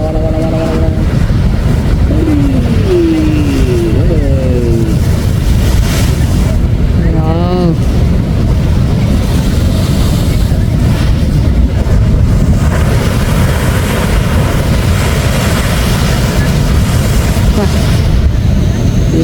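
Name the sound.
ocean waves crashing at Marneif Cave, Salalah, Oman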